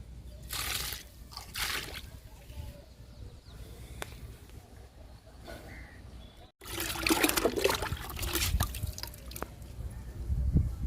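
Liquid fertilizer poured onto a potted sweet lemon plant, a steady trickling and dripping of water into soil, fairly close, with a brief break midway before a heavier splashing pour.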